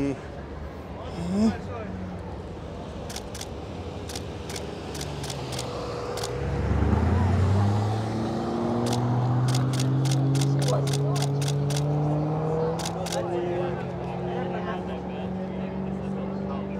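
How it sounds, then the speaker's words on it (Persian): Aston Martin Formula 1 safety car at the Baku street circuit in Azerbaijan sweeps past with a loud, rising and falling engine note, other cars roaring by in the background while a commentator talks throughout. "ماشین های سیفتی"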